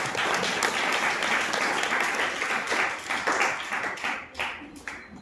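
Audience applause in a hall during a Marathi spiritual discourse on the Gita, a dense burst of many hands clapping that thins out and fades toward the end.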